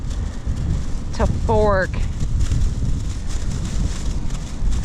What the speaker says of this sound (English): Windy days are not conducive to filming.